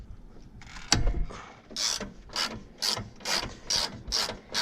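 A ratchet wrench loosens a 10mm bolt from a bracket holding an AC hose on a Toyota Highlander or Lexus RX350, a metallic knock followed by about six evenly spaced bursts of rapid clicking, close and clear without speech.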